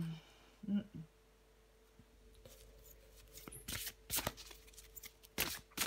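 Tarot cards are shuffled by hand in several quick, crisp bursts that grow louder toward the end, with a voice speaking quietly between them.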